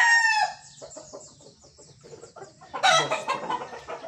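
Gamefowl on a game farm: a hen clucks in short repeated bursts, close by, with a rooster crowing loudly at the start and again near the end.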